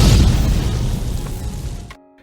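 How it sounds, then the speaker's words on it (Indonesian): A fireball explodes in a sudden loud boom that rumbles briefly before dying away into silence. "tiba-tiba bola api itu meledak berkeping-keping."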